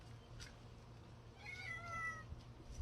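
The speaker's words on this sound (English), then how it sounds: "This is Shadow, Shadow the cat" A backyard cat gives one faint, drawn-out meow midway through, distant and quiet over low background hum.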